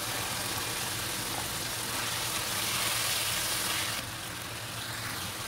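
Green beans tipped into half-cooked chicken mince make a steady, loud broadband sizzle that runs without a break and drops slightly in level near the end.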